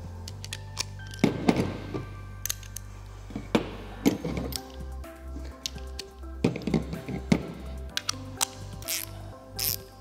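A wrench tightens a bolt and nut on a horizontal float assembly for an AquatiClear aerator, giving quiet metallic taps, clicks and thunks in irregular bursts, close by and without talk.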